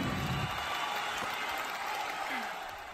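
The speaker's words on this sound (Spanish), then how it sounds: "Aplausos para Dana Bustamante," Studio audience applause on a Spanish-language entertainment news show, a steady dense wash of clapping that fades slightly toward the end.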